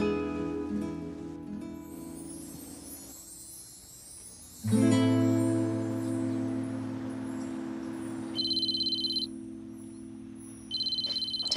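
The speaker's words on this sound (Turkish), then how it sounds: "Telefonun çalıyor." A telephone rings in a quiet room, a steady electronic tone with a repeating pattern and a brief pause partway through, fairly close and alone without talk.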